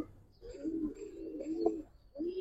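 Giribaz and coloured pigeons cooing at a market stall, a soft close run of low rolling coos that pauses briefly and resumes, with no talk over it.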